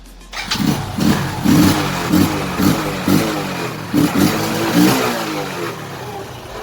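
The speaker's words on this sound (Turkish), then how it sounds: "kapağı taktığımızdaki sesi dinleyelim bir de" A Lifan TAY100 motorcycle engine with its air filter cover fitted is revved in a quick series of about eight close, loud throttle blips over a steady idle.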